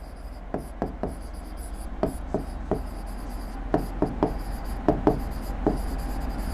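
Chalk or marker strokes on a classroom board, a series of short taps and scratches in irregular bursts, close and fairly quiet over a low background hum.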